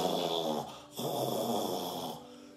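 A voice imitates snoring during a church sermon, a droning, rasping breathy snore held steadily for a couple of seconds with a brief dip midway, fairly close and moderately loud.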